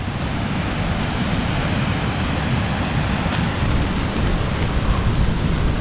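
Sea waves on the coast make a steady, loud roar mixed with blustery wind buffeting the microphone, continuous throughout without talk.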